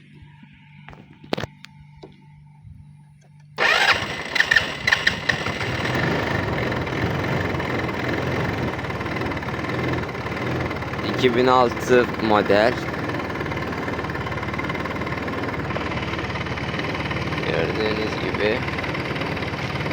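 A 2006 Mondial 150 HS motorcycle with about 40,000 km on it starts after a few seconds of quiet, then settles into a steady, close, knocking idle while someone talks over it.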